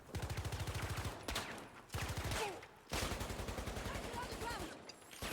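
Battlefield 2042 gunfire: a rapid automatic weapon firing in close, rhythmic bursts separated by brief pauses, with sharp single cracks at the breaks, fairly quiet overall.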